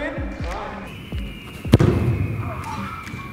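A football struck hard in a penalty shot during a Danish football challenge with different balls, a single sharp kick thump midway, with voices talking before and after it.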